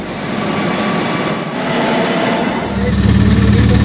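A Kochi metro train rumbles and whooshes close by, its low roar rising toward the end as it pulls in.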